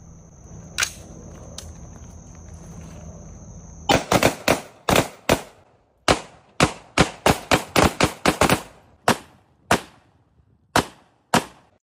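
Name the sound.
gunshots from a played video of a woman shooting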